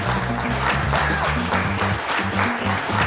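Applause from an audience fills the room, steady clapping mixed with music for a few seconds.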